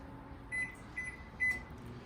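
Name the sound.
microwave oven melting mozzarella and cream cheese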